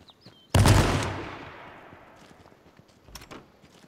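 A single loud, close shotgun blast goes off in the video game H1Z1 and leaves a long decaying tail. Fainter clicks and thumps follow, with no talk.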